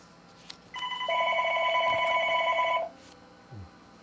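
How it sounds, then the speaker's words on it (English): A telephone rings indoors in a workshop with one sustained electronic trill lasting about two seconds, followed by a brief low thump. "Got to take a break here and get the phone."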